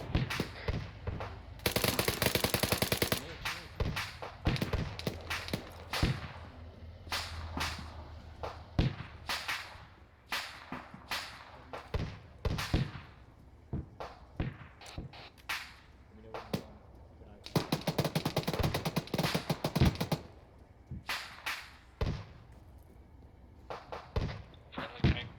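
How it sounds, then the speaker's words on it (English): Gunfire in ArmA 3 pops in scattered shots and short bursts at varying distances, with denser rattling volleys in a couple of places and quieter gaps between. "Getting shot at from behind somewhere."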